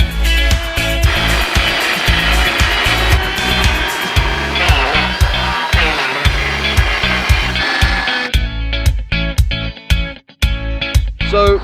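A wooden pin for a life-size tree sculpture is sawn to length with loud, close, rhythmic rasping strokes that run steadily, then turn sharper and more clipped near the end.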